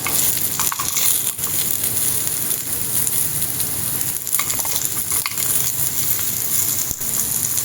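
Rajma veggie bites shallow-fry in a little oil, a close, steady crackling sizzle that runs continuously, with a few soft knocks as the pieces are turned in the pan.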